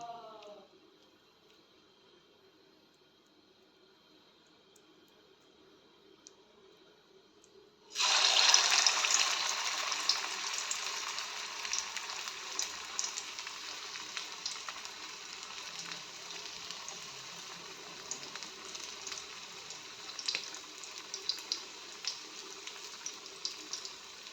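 Prawn vadas drop into boiling oil in a home kitchen, setting off a sudden loud, continuous sizzle partway through that stays strong and crackling to the end after a quiet start.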